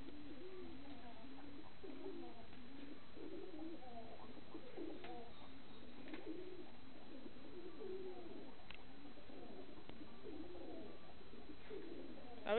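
Pet pigeons coo in soft, repeated low warbling phrases, close and steady throughout, with several birds overlapping.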